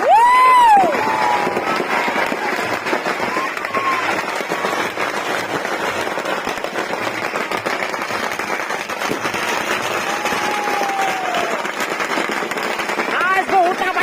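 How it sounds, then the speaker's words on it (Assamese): Firecrackers crackle and burst in dense, continuous volleys during a Ravana effigy burning at a Durga Puja celebration in Assam, with a noisy crowd, cheering and a voice talking close by throughout. "জুই লাগি গৈছে গাইজ জুই লাগি গৈছে ফটকা"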